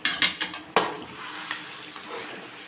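A spoon stirs Natukodi country chicken curry in a pot, giving several sharp scraping clinks followed by softer wet stirring and a light sizzle.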